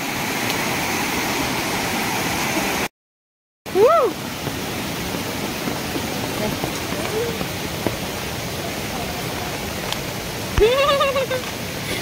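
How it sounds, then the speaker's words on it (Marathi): Murmuring stream water rushes steadily below a waterfall in a village gully during rain, a loud constant wash broken by one brief dropout, with faint squeaky calls rising over it. "हा तेच ते पर्याचं झुळझुळ पाणी"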